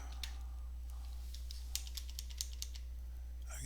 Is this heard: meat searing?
no